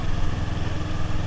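A big motorcycle engine hums steadily and close while riding, a continuous low rumble with a slightly uneven pulse and no talking.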